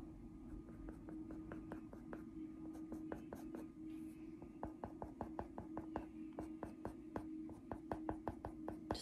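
A pencil scumbles over paper in rounded circular strokes while a lollipop is being drawn. The strokes come as close, quiet, rhythmic scratches in a steady fast pattern over a soft background hum.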